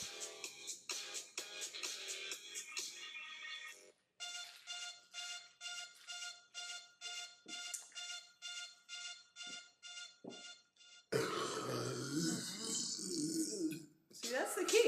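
A girl burps after chugging 12 ounces of Sprite, a run of short repeated belching bursts, some tonal and drawn out, close to the mic, followed by louder rough noisy stretches near the end.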